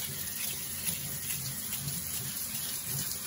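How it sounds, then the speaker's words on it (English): Tap water runs steadily over soaked rice in a colander, a constant close hiss and splash that carries on evenly and quietly with no voices. "rinse it off one more time with water"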